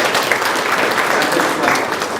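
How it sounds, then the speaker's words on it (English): A launch-event audience claps for a speaker again: loud, continuous, dense applause filling the short moment at an even level, with no gaps. "Let's clap for him once again."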